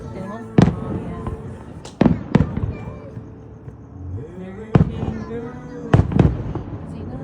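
An outdoor fireworks display at Oside in 2025 sends out about six sharp, loud bangs at irregular intervals, some in quick pairs, while people chat nearby between the blasts.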